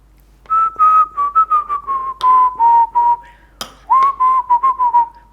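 A person whistling a wavering tune up close, a string of short melodic notes in quick rhythmic bursts with slight pitch glides, loud and clear with no talking.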